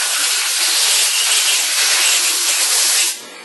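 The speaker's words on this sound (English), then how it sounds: "extra little thing I do here is I just put a nice neat little chamfer around the edge" A CNC machine cuts a neat chamfer around the edge of an FX-4WD top arm, giving a loud, steady high-pitched hiss of cutting and coolant spray that runs for about three seconds, then cuts off abruptly into quiet.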